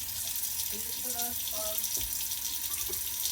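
Liquid poured out into a kitchen sink, a continuous splashing and running-water wash heard nearby with a little faint background talk.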